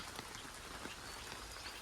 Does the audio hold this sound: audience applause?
no